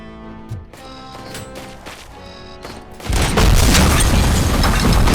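Grenade blasts in the Robocop: Rogue City video game: after quieter scattered thumps and clicks, a loud, sustained roaring explosion erupts and rumbles on for the last couple of seconds, heavy and close.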